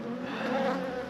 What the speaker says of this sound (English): 2 full boxes of bees, wonderful.